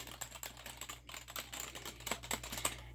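A dog paws at a computer keyboard, producing a steady patter of soft, uneven key clicks throughout, close and quiet.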